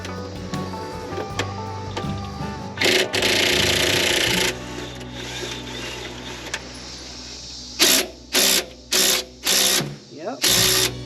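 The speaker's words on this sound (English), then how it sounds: "Now let's take the bolt that holds the harmonic to the crank out." Ratchet work on the crank bolt of a harmonic balancer on a 1995 Ford F-150, with mechanical clicking and grinding, then a string of five short, loud bursts near the end as the bolt is spun out; a voice talks in the background.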